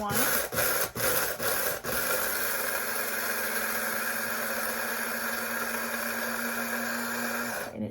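A Kunphy electric coffee grinder grinds coffee beans in a steady, loud whirring drone that runs almost eight seconds. A few bumps come early before it settles, and it cuts off at the end.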